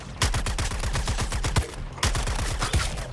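Rapid bursts of gunfire in the video game Suicide Squad Kill the Justice League, with dense, continuous automatic shots and a few heavier booms layered on top, loud and close with no talking.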